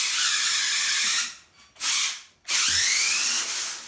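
The electric motors of a VEX EDR robot tank whine loudly as it drives and turns, cutting out twice and spinning back up.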